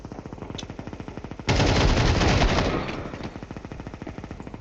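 Gunfire from the Counter-Strike 2 video game: a dense, loud automatic burst of shots erupts mid-clip and fades over about a second, set against a steady rhythmic in-game background pulse.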